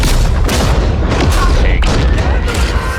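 Heavy battlefield gunfire and booming explosions from a Call of Duty WWII game trailer, loud dense blasts in rapid succession over a rumbling war soundscape, with a voice faintly mixed in.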